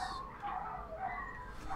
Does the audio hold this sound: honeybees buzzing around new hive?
no